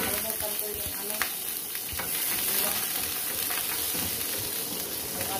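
Garlic fries in a pan, a dense, continuous close sizzle and crackle with faint stirring scrapes, loud and steady throughout.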